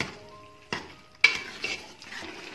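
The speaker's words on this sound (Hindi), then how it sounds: "अब मैं इसको अच्छी तरह भून लूंगी।" Cooked marrow (koosa) sabzi is stir-fried in a pan, with a faint sizzle and a couple of sharp spoon knocks against the pan, close and quiet.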